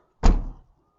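The boot lid of a Lexus LS430 closes with a single short, muffled thump nearby, then quiet.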